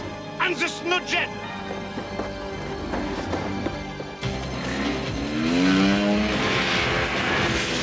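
Cartoon sound effect of a snow jet engine revving and roaring, with whooshing rises and a loud sustained roar building toward the end, mixed with animated voices and music.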